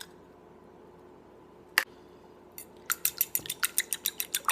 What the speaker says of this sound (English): we're going to beat these up a little bit